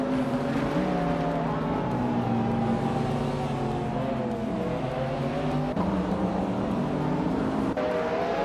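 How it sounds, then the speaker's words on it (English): A Salium 7 race car engine in a racing video game hums and whines steadily, its pitch climbing and dipping through gear changes, with other cars faintly mixed in over the continuous drone. "Gina Jones is driving a Salium 7, a car known for its raw power and sleek design"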